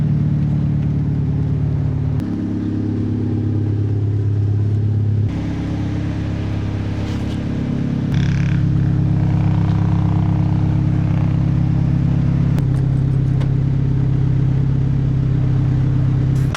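A car drives along an empty, traffic-free road after a super typhoon, its steady low engine hum and tyre rumble continuous and close, rising slightly in loudness partway through, with no talk.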